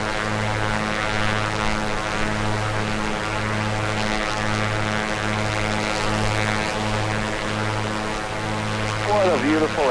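Steady droning propeller engine of a Piper Comanche 250 aircraft in Microsoft Flight Simulator, a continuous loud hum with a regular pulsing beat throughout, a brief voice near the end.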